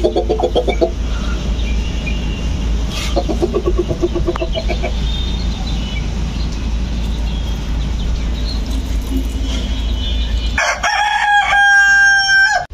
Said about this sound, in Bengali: আর এদিকে আমার বড় মুরগিগুলো